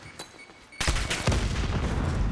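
A grenade bursts loudly in a professional Call of Duty League match, after a couple of faint shots. A sustained rattle of gunfire and rumbling debris follows close by, with no voices.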